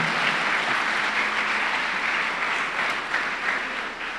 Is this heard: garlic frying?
no